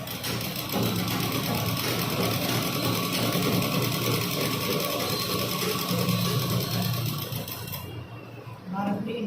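Sewing machine runs steadily, stitching a churidar waistband with a gap left for the drawstring opening, a continuous close mechanical whir that stops near the end; someone talks over it in Tamil.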